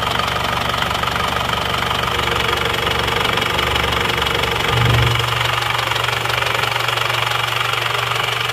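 An Isuzu Panther engine idles loud and close with a steady, even hum and a faint rhythmic knock underneath, running smoothly without smoke; no one speaks.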